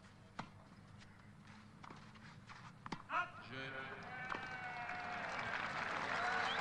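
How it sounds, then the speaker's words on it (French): A crowd of tennis spectators at Roland Garros in 1984 claps, starting as scattered claps and swelling into fuller applause toward the end, faint and distant, with commentary voices over it. "le public applaudit Monsieur Flodrops"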